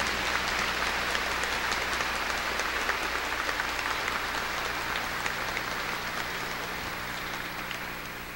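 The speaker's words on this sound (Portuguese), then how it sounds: "Uma salva de palmas," Congregation applause during a Catholic Mass in church honoring Saint Anthony, a steady, dense patter of clapping at moderate volume with a low hum underneath, slowly fading near the end.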